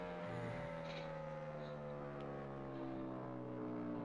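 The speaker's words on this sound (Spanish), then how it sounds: "Como suena el viento, tío." A steady, droning whoosh of wind with a continuous engine-like hum fills the GP Bikes motorcycle racing game at the Montmelo circuit, loud and unbroken throughout.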